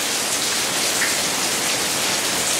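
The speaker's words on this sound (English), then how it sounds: "Hey, welcome to rainy season." Heavy afternoon rain pours steadily during the rainy season in Khon Kaen, Thailand, a dense, even hiss of downpour close by with no break and no voices.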